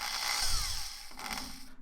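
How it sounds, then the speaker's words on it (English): A power drill or driver fastens a part into place during a custom PC build, giving a close, steady whirring run with a brief pause and a shift in pitch partway through. "Let's get this and drill it into place."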